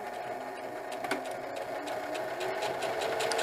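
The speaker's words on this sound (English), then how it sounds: "I'm going to backstitch." A workhorse home sewing machine backstitches a diaper bag tote, its needle giving a rapid, steady mechanical whirring patter up close, with brief pauses and changes in speed.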